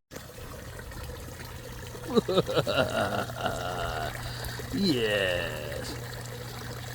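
Water splashes and trickles from a Halloween skeleton decoration in a steady pour, heard close under a couple of people chatting and reacting.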